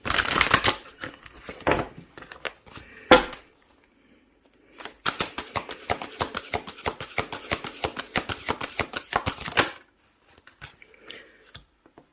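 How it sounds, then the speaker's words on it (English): Rapid riffling of tarot cards being shuffled in several bursts, crisp flutters separated by short pauses, close up. "One more shuffle."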